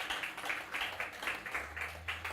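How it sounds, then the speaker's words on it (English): A small crowd at a press conference claps in a brief round of applause, with even, rhythmic, fairly quiet claps and no voices. "Let's give her a round of applause."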